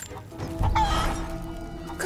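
Chicken clucking from the video game Rise of the Tomb Raider, a brief burst of fowl calls over a steady game background hum, heard alone without speech.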